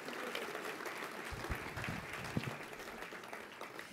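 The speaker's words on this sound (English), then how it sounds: "Give them a round of applause." An audience claps steadily at the 2013 UMass Boston Gala, a dense wash of applause that swells slightly and continues throughout.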